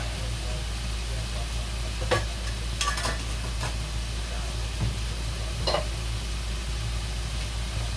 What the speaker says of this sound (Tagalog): Pagkatapos po niya, haluin natin.